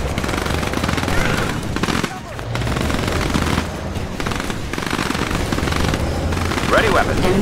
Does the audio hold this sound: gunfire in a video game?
yes